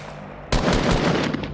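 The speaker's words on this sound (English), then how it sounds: "He's shooting at me." Rapid automatic gunfire in Fortnite Battle Royale gameplay: a dense, loud burst of shots starts abruptly and continues steadily, with no voices.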